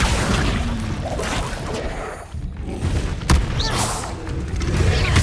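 Incendio fire spell cast in the Hogwarts Legacy video game, a loud rushing, roaring blast with whooshes and thuds that swells, dips briefly, then surges again.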